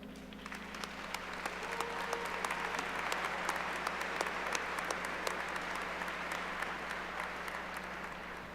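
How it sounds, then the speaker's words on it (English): Audience applause for college faculty at an SCTCC pinning ceremony: a steady, fairly faint wash of many hands clapping that carries on for several seconds at an even level, with no voices over it. "Can you please join me in giving a huge round of applause to our outstanding faculty?"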